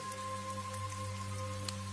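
Steady rain falls in a village scene, a dense, even patter with a faint constant hum beneath it and no voices.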